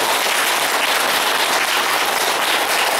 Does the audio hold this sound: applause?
yes